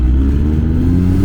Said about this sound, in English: The way that this automatic transmission shifts, oh my gosh. It is so satisfying.